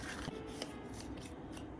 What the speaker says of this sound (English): Maybe I'll cut this out and put that on there.